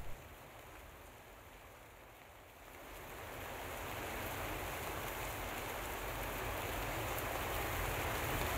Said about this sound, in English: This warm rain collected in the watershed begins pouring into the lake.